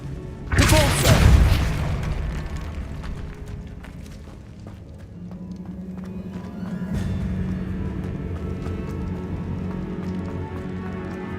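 The Depulso spell is cast in Hogwarts Legacy on PS5: a loud, booming magical blast that swells and fades over a couple of seconds, followed by lower rumbling game ambience.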